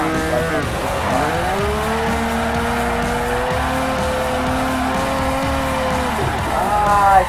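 A car spins out while drifting in Forza 4, with a steady engine drone and long tire squeals that bend and slide, rising again near the end.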